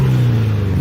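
A turbocharged Hyundai Tiburon's exhaust drones loudly and steadily as the engine is revved, a close, thick, continuous rumble with no voices.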